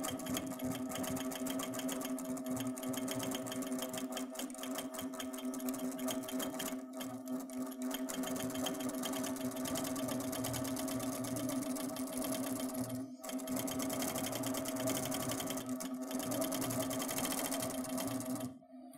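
A longarm quilting sewing machine stitches feather patterns with a steady, rapid mechanical whir and fast rhythmic needle chatter, close and continuous, pausing briefly a couple of times before winding down at the end.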